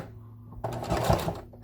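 A short burst of sewing machine stitching runs through a handbag pocket as a back stitch, starting after a quiet moment and ending with a brief click.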